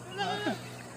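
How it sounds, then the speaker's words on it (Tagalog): A single goat gives a short, close bleat over steady background noise in a rural Philippine yard. "Ito po yung mga alaga niyang kambing."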